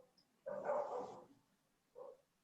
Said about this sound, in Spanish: Ahí saltó un perro, que no es el mío.